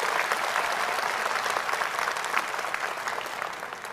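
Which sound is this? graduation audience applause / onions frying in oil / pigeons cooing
graduation audience applause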